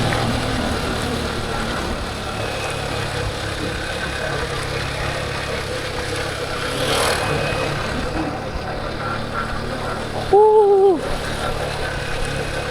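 A small motorbike nicknamed Capung coasting downhill at about 35 km/h with the throttle released, heard as a steady low engine drone with wind rush, a brief swell midway and a short two-tone horn-like hoot near the end.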